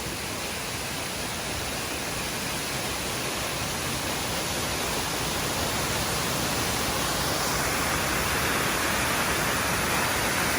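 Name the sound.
Foaming Falls waterfall, Huon Valley, Tasmania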